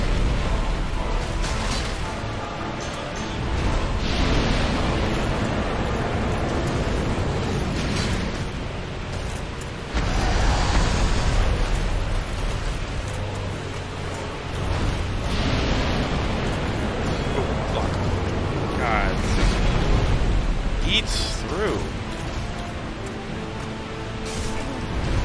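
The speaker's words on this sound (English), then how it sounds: "Whoa! Ah, the fire." Roaring, crackling fire in the Hollow Knight video game, a dense continuous rumble with bursts and booms that swell and ebb throughout, loud and steady with game sounds layered over it.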